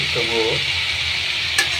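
Kamli shak greens stir-frying in plenty of oil: a steady close sizzle and hiss, with a short spoken word near the start and a single sharp click near the end.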